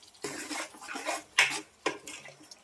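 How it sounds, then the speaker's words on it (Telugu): Water splashes and clatters into a pan of cucumber curry cooking with dried fish, coming in a few short, close bursts with brief pauses between them. "కొంచెం వాటర్ పోసేసుకొని ఉడకనిచ్చేసుకుందాం"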